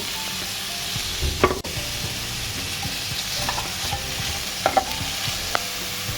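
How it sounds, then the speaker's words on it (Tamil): Curry leaves and a tomato frying with softened onions in a pan for sambar: a steady, close sizzle throughout, broken by a few sharp metallic clanks of a stirring spoon. "இப்போ நம்ம கருவேப்பிலை போட்டுக்கலாம் கருவேப்பிலையும் ஒரே ஒரு தக்காளி"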